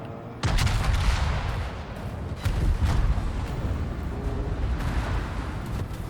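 Warship secondary guns firing in World of Warships, heard as a steady roar of gunfire and booming battle noise with dense low rumble, swelling sharply at the start and again midway, loud and continuous.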